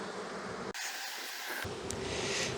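Young bees in a hive box in October make a dense, steady buzzing hum heard up close, with brief abrupt shifts in tone as the sound is disturbed.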